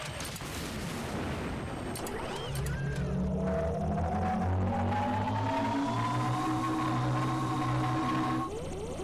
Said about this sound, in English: Railguns are noisy